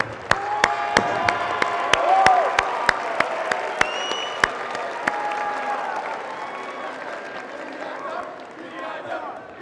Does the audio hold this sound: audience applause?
yes